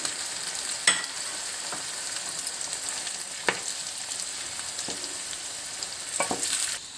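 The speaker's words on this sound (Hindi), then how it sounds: "ये भुने हुए थे, इनको हम डाल देते हैं और मिक्स करेंगे।" Roasted spices being stirred into a mixed pickle of cauliflower, carrot and radish, with soft scraping and a few sharper spoon knocks over a steady low hiss.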